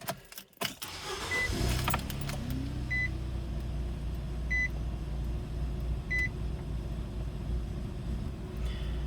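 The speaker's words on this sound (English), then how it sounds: "you're going to turn it on and you're going to let it run until it stalls itself out" A Nissan Versa idles steadily with its fuel pump removed, a low, even engine drone close by, with a few faint electronic beeps repeating at regular intervals and no talking.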